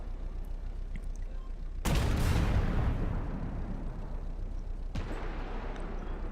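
Video game gunfire: a sudden loud blast with a long rumbling decay, then a second sharp shot a few seconds later over a steady background roar.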